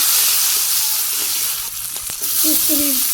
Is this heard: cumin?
yes